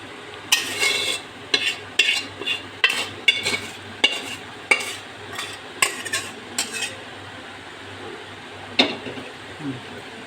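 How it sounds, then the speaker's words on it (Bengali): Chicken meat being stirred into a pot for a chicken and vegetable khichuri, with a spoon scraping and clinking against the metal in an irregular rhythm of a dozen strokes over a soft sizzle. "মাংসটা দিয়ে দেবো।"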